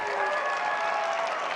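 Audience at a startup pitch competition breaks into applause, a dense, steady wash of many hands clapping that holds at an even level throughout with no voices on top.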